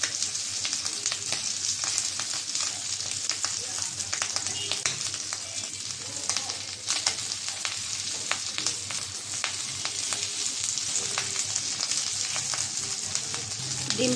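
Rohu fish roe frying in hot oil gives a steady, close sizzle with dense popping crackles throughout, with no talking.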